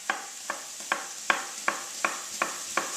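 Onions for a lamb tajine cook gently in a pan, a soft sizzle running underneath as a utensil stirs them in eight evenly spaced scrapes roughly every half second, close by and with no speech.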